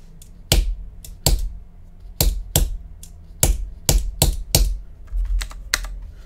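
Close, loud keystrokes on a computer keyboard come in irregular clusters of sharp clacks with short pauses between bursts.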